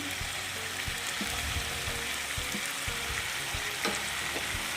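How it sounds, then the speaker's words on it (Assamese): Mustard seeds sizzle in hot oil for a red amaranth and jackfruit seed dish, a steady close hiss broken by scattered small pops and crackles, with no talking. "ইয়াতে মই এতিয়া সৰিয়হখিনি দি ল'ম।"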